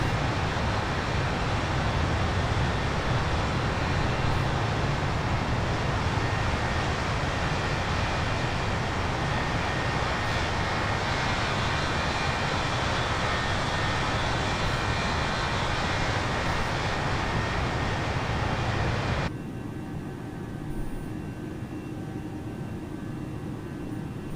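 An Airbus A320 taking off in Microsoft Flight Simulator, a steady, loud broadband jet engine roar held for about twenty seconds before abruptly dropping to a quieter, thinner hum.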